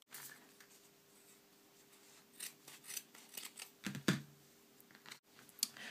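Scissors snipping cotton pads into small pieces, a series of close, quiet crisp cuts and rustles in an irregular rhythm, with no talking.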